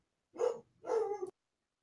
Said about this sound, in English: Look, the dog's barking.